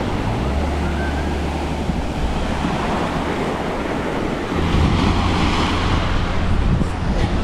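Surf washing onto a Hawaiian beach, a steady broadband wash of breaking waves with wind buffeting the microphone, loud and continuous with no talk.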